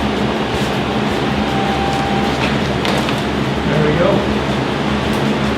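Steady broadband whoosh of a ventilation fan running in a garage paint booth during a motorcycle cafe racer build, constant and fairly loud, with a short spoken remark over it.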